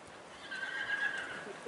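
A horse canters in a circle at a riding clinic at Rancho Alegre, with soft, fairly steady hoof rhythm and a thin sustained tonal whine partway through, at moderate distance and without talk.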